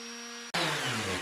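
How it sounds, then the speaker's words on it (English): A power sander starts abruptly from a quieter electrical hum and runs as a loud, steady whirring grind while it sands the edges of modular tabletop road terrain. "I'm using a power sander."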